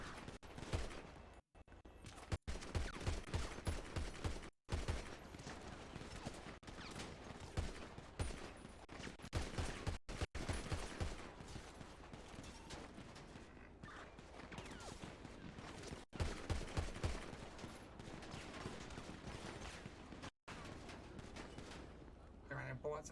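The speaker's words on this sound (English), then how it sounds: "Multiple shots fired near ammunition." Gunfire in a GTA roleplay video game rings out as repeated bursts and rapid volleys across the whole stretch, loud and close, with voices talking over the shooting.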